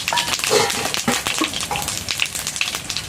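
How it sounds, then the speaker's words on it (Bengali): Cumin seeds and dried red chillies crackling in hot oil in a kadai, a loud, close, dense sizzle with scattered pops and spits. "কড়াই আমার তেল গরম হয়ে গেছে, এখন আমি জিরে ফোড়ন আর শুকনো লঙ্কা ফোড়ন দিয়ে দেবো।"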